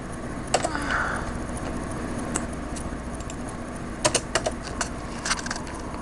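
Someone types on a computer keyboard, producing sparse, irregular key clicks, some in quick bursts of two or three. The clicks sit over a steady room hum and are fairly faint.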